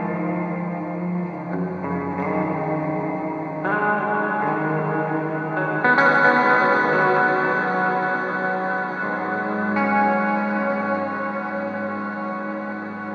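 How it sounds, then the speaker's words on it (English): Single electric guitar notes wash through a reverb and delay pedal set to maximum, each new note blooming into long, echoing, atmospheric swells that overlap and keep ringing without pause. "hit one note and let it ring out, creating like an atmospheric effect"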